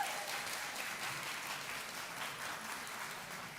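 A round of audience applause at a food summit session, steady clapping from a crowd, heard somewhat distant and even throughout.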